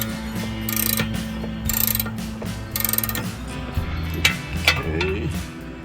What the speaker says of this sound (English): This is a 21 millimeter ratchet wrench